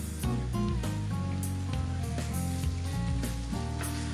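Half a kilo of cleaned prawns fry in oil with masala for a prawn pepper fry, making a steady, close sizzle that is partly masked by background music with a strong bass line.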